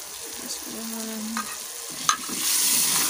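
Green chillies and tomato masala sizzle in a pan as a spoon stirs them, with a couple of sharp scrapes before the frying hiss swells louder near the end.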